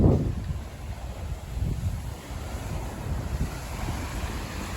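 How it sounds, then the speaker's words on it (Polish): Morning ocean surf rumbles steadily, a continuous low wash of waves mixed with wind buffeting the microphone. "Poranny ocean."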